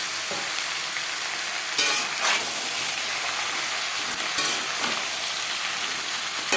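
Pumpkin and Malabar spinach stalks are stirred with ginger and green chili paste in a hot pan, giving a constant loud sizzle of frying with occasional scraping strokes of a spatula against the pan.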